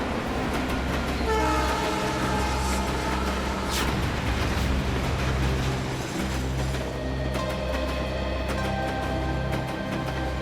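A train pulls out of a station, its steady loud rumble and rolling wagons filling the scene, with a horn-like tone rising briefly partway through and the motion continuing without speech.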